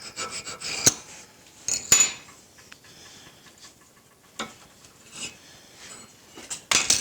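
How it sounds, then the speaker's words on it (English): A metal scribe scratching a layout line across scaly steel plate for a blacksmith guillotine, heard as a few short, close rasping strokes separated by quieter pauses, with no talking. "We're going to scribe it with this."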